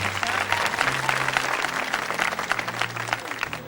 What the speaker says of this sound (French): On peut l'applaudir, vous savez, c'est moi.